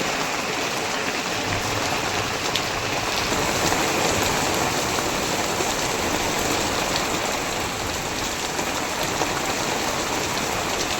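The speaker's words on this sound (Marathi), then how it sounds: "पाऊस म्हणजे पाऊस एकदम डेंजर पडतो आहे बघा मोठे मोठे टिपकी आहेत" Heavy rain pours down in big drops, a dense, loud and unbroken roar of water hitting surfaces nearby, steady throughout with no voices.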